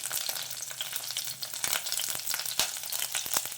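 Cumin seeds, curry leaves and green chilies sizzle in hot oil for tomato rice, a close, continuous crackling hiss with sharp pops and no voices.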